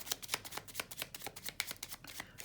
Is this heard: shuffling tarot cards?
yes